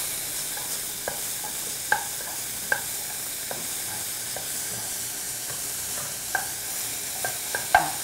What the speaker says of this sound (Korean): 냄비에 버터를 두르시고, 자, 양파를 먼저 볶아 주도록 하겠습니다.